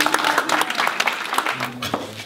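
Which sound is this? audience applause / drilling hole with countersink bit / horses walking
audience applause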